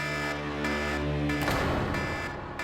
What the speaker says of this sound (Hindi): ये अलार्म सुन रहे हो ना, ये उनके अंदर आते ही बजेगा